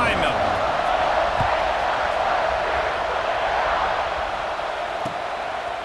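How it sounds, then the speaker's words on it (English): A packed college football stadium before kickoff in EA Sports College Football 26, a steady loud roar of crowd noise that holds throughout, with a commentator's voice over it. "They're set to kick it off, and this crowd now ready to get behind them"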